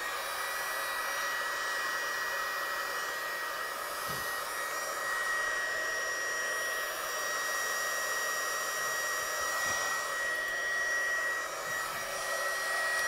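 Heat gun blowing hot air over a stamped card, a steady even roar like a hair dryer that runs unbroken from start to finish at moderate level, with faint small knocks.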